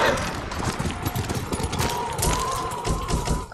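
Horse hooves gallop in a fast, steady clip-clop through snowy, windy terrain in the video game Ghost of Tsushima, loud and continuous under a broad wash of wind noise.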